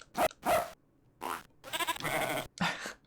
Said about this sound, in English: I had a bunch of the barking sounds and stuff in there the second year